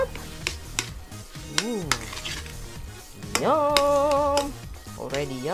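A spoon stirs spaghetti sauce with olives in a pan, with clinks and scrapes against the pan, while a voice talks over it and a musical tone rises in the background.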